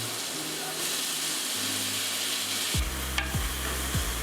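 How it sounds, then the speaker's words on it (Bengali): Onions cook in butter in a pan for a creamy oyster mushroom soup: a steady close sizzle and frying hiss, joined by a few stirring scrapes near the end, with no voices. "এখন একটি পাত্রের বাটার দিয়ে আমরা পেঁয়াজ কিছুক্ষণ কুক করে নেব।"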